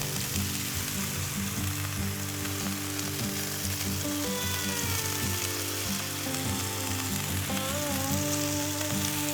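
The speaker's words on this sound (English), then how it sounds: "the tortillas are cooling, so let's cook some bacon" Bacon sizzles loudly on an uncleaned griddle still greasy from cheese, giving a steady close frying crackle with scraping and clinking from the cook's tools.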